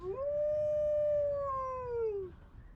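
A single drawn-out howl plays as a participant drops out of an online call. It swells quickly, holds a steady, slightly wavering pitch for about two seconds, then slides down and fades, heard alone with no talk.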